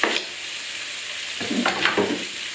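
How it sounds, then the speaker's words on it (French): Sliced vegetables for a vegan green bean, seitan and mushroom dish hitting a preheated pan, a steady sizzle with a couple of brief clattering stirs near the middle and end, no speech. "on va les mettre direct dans la poêle bien chaude"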